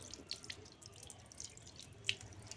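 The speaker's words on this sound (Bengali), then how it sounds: "একটু ধুয়ে নিতে হবে, না হলে এটার মধ্যে নোংরা থাকে।" Tap water runs steadily over food being rinsed clean before cutting, with a soft continuous flow and a few brief splashes and drips, close and fairly quiet, no talking.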